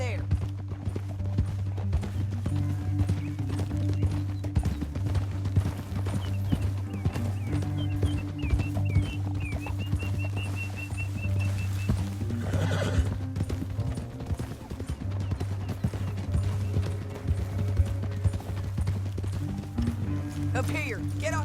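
Horses in Red Dead Redemption 2 clip-clop steadily through a canyon, a whinny rising briefly midway, all under a constant low rumble and occasional character voices.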